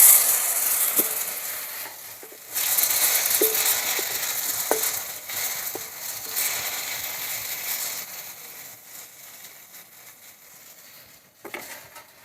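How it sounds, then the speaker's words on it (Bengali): Tender young eggplant slices coated in salt and turmeric fry in oil in a pan, making a moderate hissing sizzle punctuated by occasional utensil clicks that grows quieter toward the end. "কচি নরম বেগুন, এই বেগুনে ভালো লাগবে খেতে। মাছের মতো ভালো করে ভেজে নেব।"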